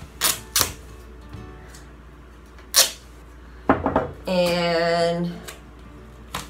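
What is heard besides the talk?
duct tape being pulled off the roll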